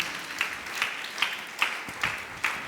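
A church congregation clapping together in a slow, regular rhythm, about six even claps spaced roughly 0.4 seconds apart, moderately distant and fairly soft.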